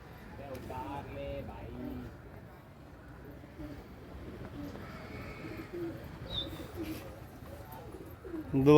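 Pigeons coo softly in low, rolling murmurs beneath someone talking, the birds faint and somewhat distant.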